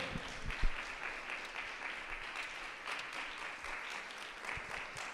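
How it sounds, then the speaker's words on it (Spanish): Congregation applauding in a church service, a steady broadband wash of many hands clapping together, held at moderate level for the whole stretch with a few sharper claps near the start. "Un aplauso al Señor y por su gran trompeta."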